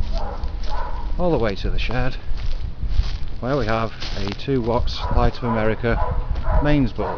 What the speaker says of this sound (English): Sorry about the dogs in the background there